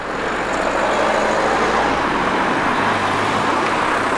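Steady roadway rumble of many cars and larger vehicles passing a seaside street in Grange-over-Sands on a busy tourist day, a continuous broad wash of engine and tire noise with no voices.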